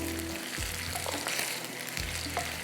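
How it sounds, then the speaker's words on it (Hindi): Kebabs frying over a slow flame in a pan, a dense continuous sizzle with occasional soft stirring clunks, close and alone without talk. "ये जो आपको कबाब नज़र आ रहे हैं ना, ये कबाब जाएंगे आखिर में, ये फ्राई हो रहे हैं"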